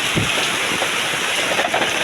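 Heavy rain pouring down outdoors, a dense, loud, continuous hiss with scattered patters close to the microphone and no talking.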